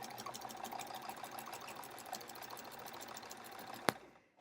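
A sewing machine slowly quilts a bulky quilt with a steady, quiet run of stitching, ending in one sharp click before stopping, no voices.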